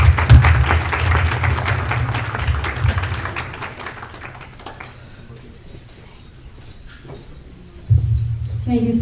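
A crowd applauding after a dance performance at a Hindu temple's 30th anniversary event, with dense clapping that thins out midway, then swells again near the end.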